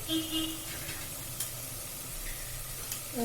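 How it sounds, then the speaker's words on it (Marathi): Masala spice paste sizzles in oil in a pan for a pea and potato curry, a soft steady crackle with light stirring scrapes close by. "आता मी हा मसाला फ्राय करून घेणार आहे चांगला तेल सुटेपर्यंत"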